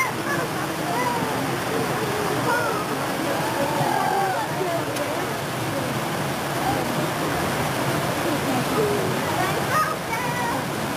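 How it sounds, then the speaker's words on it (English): Water pouring over the wheel at an old working mill, a steady full rush of falling water heard close by, with children's and adults' voices talking faintly over it. "water turning the wheel, the wheel turning inside."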